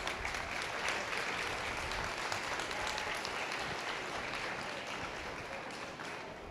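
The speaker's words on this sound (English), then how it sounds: "Let's give them a round of applause." A crowd at a Clermont County goat show breaks into sustained applause, a fairly faint, even wash of many hands clapping that tapers slightly toward the end.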